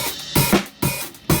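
A drum kit plays a short 6/4 phrase of an odd-meter beat, with dense hi-hat or cymbal wash punctuated by several firm kick and snare hits. The playing is close and loud, with no voices.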